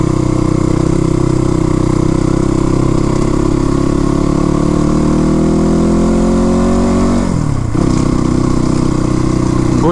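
Crossfire RM250 dirt bike engine running steadily and loud while riding on a slippery trail near Sarangkot, Pokhara, with a revving pitch that sweeps upward and then drops sharply near the end.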